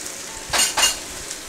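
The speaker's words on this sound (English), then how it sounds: "So you do want to sear it a little bit just to make sure that cornstarch doesn't come off into your sauce." Beef coated in cornstarch searing in a pan, a faint background sizzle broken by two short scraping or stirring bursts at close range.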